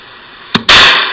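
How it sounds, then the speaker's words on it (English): A Russian semi-automatic assault rifle fired at a militia training session: a sharp close crack followed almost at once by a louder, heavier blast that rings and decays for about half a second, with no talking. "how to fire a semi-automatic weapon like this Russian assault rifle"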